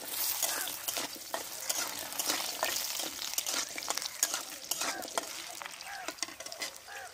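Pieces of taro fry in hot oil in a pan, a dense, steady sizzle with frequent crackling spits and light stirring scrapes throughout.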